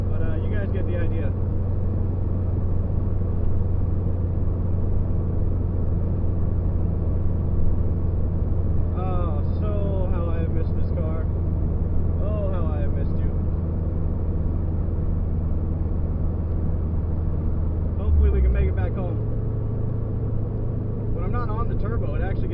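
A turbocharged car with a swapped transmission cruising along, its engine droning steadily throughout at a close, even level, with a brief dip near the end. Someone talks over it at intervals.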